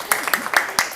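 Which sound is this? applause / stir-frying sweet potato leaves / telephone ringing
applause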